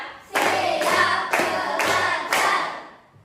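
A group of children claps in time in a classroom, four loud separate bursts of hands at an even counted pace, close and without talking.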